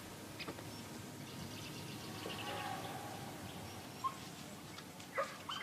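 Hunting dogs, fox terriers and Welsh terriers, bark during a boar drive in a forest, faint and distant, with scattered yips rising over a steady outdoor background.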